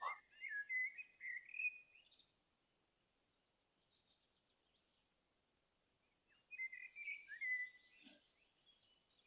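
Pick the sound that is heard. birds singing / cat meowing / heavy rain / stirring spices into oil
birds singing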